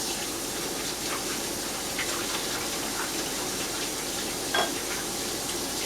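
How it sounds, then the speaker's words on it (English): Hands are rinsed under a running kitchen tap, a steady gushing wash of water with a few small splashes and clatters, fairly close and alone. "I'm going to just rinse my hands quickly"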